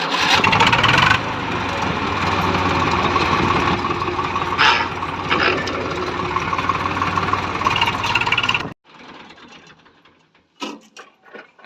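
A tractor with a faulty self-starter rumbles loudly and close for about nine seconds before cutting out, leaving quieter scattered clatter afterward.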